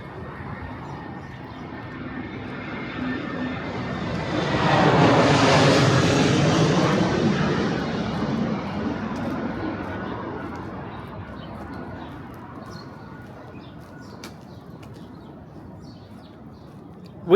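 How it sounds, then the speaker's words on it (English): A low-flying airplane passes over a tree-lined Jackson Heights street in Queens, New York, near the airport, its broad engine roar swelling to a loud peak and then slowly fading, with faint birds chirping in the background. "getting closer to the airport, so the planes are going to get lower and lower as we continue on this walk. So it's going to get louder."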